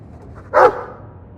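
A dog in Dragon Age 2 gives a single short, loud bark, alone against a quiet background.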